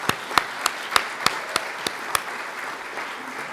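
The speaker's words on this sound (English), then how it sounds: "let's just have a round of applause for all of these people" Sparse applause at a patient education conference on neuroendocrine tumors, a handful of distinct sharp claps spaced out over a quiet room and fading away after a couple of seconds.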